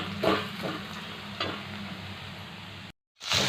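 Tomatoes frying with sautéed onions in a pan for village-style sambar, a steady sizzle with a few scraping stirs, briefly cutting to silence before the sizzle returns.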